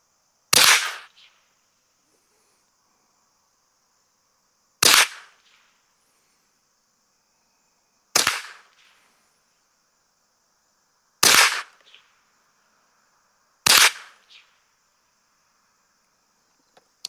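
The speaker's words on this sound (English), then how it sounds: "let's shoot another 5-shot group. We're going to shoot that top left target." Five sharp rifle shots from a Ruger 597 squirrel rifle at a target range, each a loud crack with a brief tail, spaced about three to four seconds apart with silence between.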